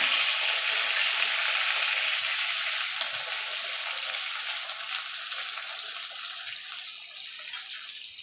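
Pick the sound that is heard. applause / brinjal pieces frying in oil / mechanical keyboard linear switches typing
brinjal pieces frying in oil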